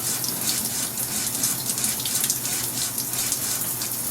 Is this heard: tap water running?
yes